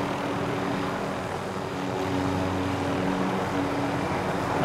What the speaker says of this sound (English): In a helicopter whilst flying.